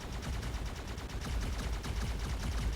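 Rapid, continuous gunfire from inside a shield in the video game Stellarum, a dense stream of sharp shots rattling steadily for a few seconds with no talk.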